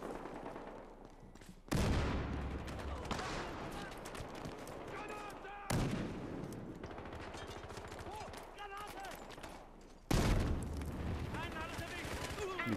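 Grenade blasts and gunfire in Battlefield Hardline: three sudden loud explosions land a few seconds apart, each followed by sustained rattling gunfire and rumbling, with a voice speaking over the din.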